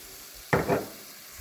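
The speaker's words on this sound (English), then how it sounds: "I'm going to add some soy sauce" Soy sauce poured into a hot pan of cubed tofu in oil while cooking vegetarian potstickers, a single sudden loud hiss that flares and then fades within about half a second, with quiet sizzling after.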